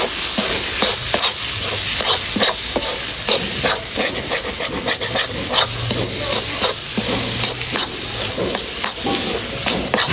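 Taro leaf greens cooking in a pan with a little sugar added, a loud continuous sizzle broken by repeated rhythmic scraping and stirring strokes close up, no speech.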